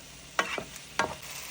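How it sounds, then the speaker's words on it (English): Tomatoes sautéing in a pan for a vegan Indian-style okra stew, with two distinct scraping stir strokes over a soft, steady background sizzle, close and fairly quiet. "Now I'm going to add the tomatoes. And saute it until the tomatoes are well done."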